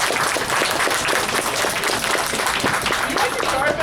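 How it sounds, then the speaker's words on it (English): An open mic audience breaks into sustained applause, a dense wash of clapping held steady and loud throughout, with voices mixed underneath. "give him another round of applause"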